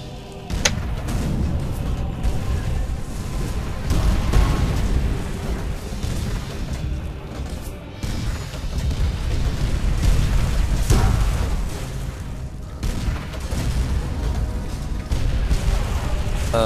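Tanks being shot and blowing up in the Call of Duty: World at War co-op mission Blood & Iron: a run of heavy booms and rumbling explosions, some near and some distant, over constant battlefield noise.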